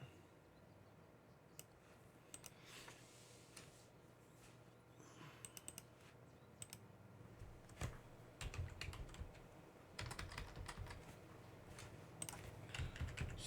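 Computer keyboard typing at close range in a quiet room, with irregular clusters of key clicks that grow denser and louder toward the end, while Linux commands are entered at a terminal.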